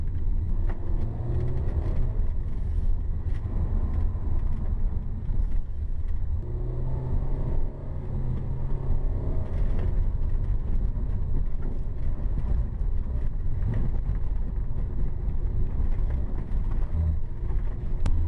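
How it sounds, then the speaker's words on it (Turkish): A Renault Kadjar 1.5 dCi with EDC automatic gearbox drives over rough, uneven light off-road ground, giving a continuous low rumble of engine and tyres with intermittent thumps and rattles from the cabin, no talking. "bu gibi işte bozuk zeminlerde, çok çok engebenin olmadığı zeminlerde bu otomobil kolaylıkla ilerleyebiliyor"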